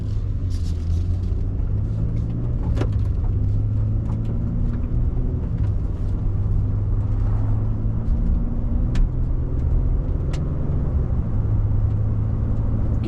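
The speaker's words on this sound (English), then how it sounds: "You can hear these hand-cooked Dynapro AT2s throwing dirt and rocks out of them." A 2024 Nissan Frontier Pro-4X on all-terrain tires driving, with a steady low road rumble and intermittent sharp ticks and clicks of dirt and small rocks flung against the body, heard from inside the cab.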